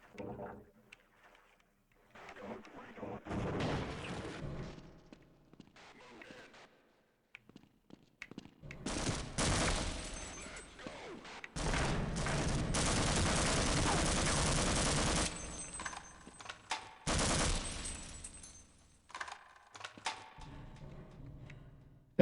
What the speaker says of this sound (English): they seem about as good at shooting me as I am at shooting them